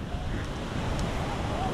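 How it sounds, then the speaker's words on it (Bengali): Waves on a Sri Lankan sea beach wash and roar continuously at moderate volume, mixed with gusty wind buffeting the microphone, with no talk. "নদীর গর্জে ওঠা ঢেউ"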